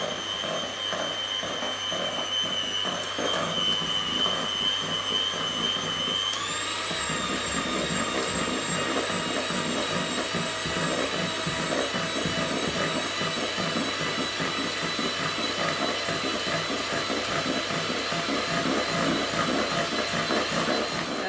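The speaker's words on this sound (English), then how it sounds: "So I'm going to get on and whisk it up" Gluten-free plain sponge cake batter being whisked with an electric mixer, a steady loud motor whine running throughout that shifts up in pitch partway through as the speed increases.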